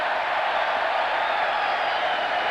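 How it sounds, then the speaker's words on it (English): A stadium crowd at a 1992 NFL game between the 49ers and the Falcons lets out a Bronx cheer, a steady, dense roar of booing that holds at an even loudness throughout with no pauses. "And a Bronx cheer goes up in the South."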